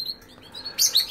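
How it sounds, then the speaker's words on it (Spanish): A recording of European goldfinch song plays indoors in a kitchen for caged birds: brief high chirps and a bright twittering burst, close and fairly clear, lasting about a second. "cada X tiempo les pongo el canteo del jilguero"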